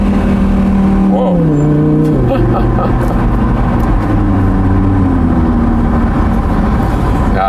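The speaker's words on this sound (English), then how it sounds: "when this exhaust blops in, that's really something" A 2017 Audi R8 Spyder V10 with 540 hp accelerates in sport mode, its engine note climbing and dropping through gear changes, loud and continuous inside the car, while someone talks over it.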